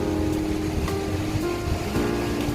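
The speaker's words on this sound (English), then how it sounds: "Wow, the wind is blowing." Steady wind roars and buffets across Kappad Beach in Calicut on a rainy day, with surf churning underneath; a continuous, loud broadband rush with no pauses and no talking.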